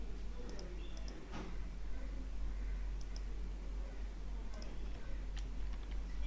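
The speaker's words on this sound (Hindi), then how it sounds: "आप कंट्रोल से क्लिक करके इसको मीन्स के डीसेलेक्ट कर सकते हैं" Faint computer mouse clicks while text is selected in Microsoft Word, a few scattered single clicks over a steady background hiss.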